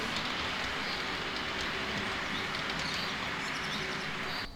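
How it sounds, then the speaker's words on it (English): OO gauge model train running on a model railway layout, a steady broadband rumble and hiss throughout with added bird song and traffic effects mixed in, continuous and fairly loud with no talking. "The Birds Song and Traffic Effects were downloaded off the internet."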